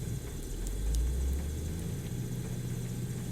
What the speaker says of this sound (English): Now the engine's running.